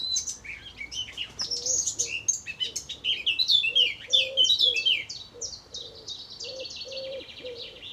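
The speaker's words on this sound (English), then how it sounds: "Classic blackcap, chaffinch" Blackcap, chaffinch and chiffchaff sing together in a village setting near Hitchin, overlapping bright warbling phrases and repeated chirps, fairly close and clear, with no talking.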